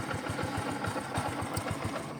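A motorcycle engine chugs at low revs as it arrives at a calamansi farm before dawn, a steady rhythmic putter with regular pulses, fairly quiet and close, with no talk.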